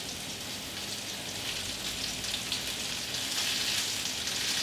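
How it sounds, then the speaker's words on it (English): Cornstarch-and-flour-coated chicken sizzles in hot oil, a steady, close, bright crackling hiss that holds evenly throughout with no voices. "Oh yeah, it's sizzling right away."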